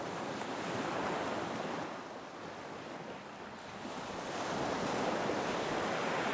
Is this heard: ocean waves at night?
yes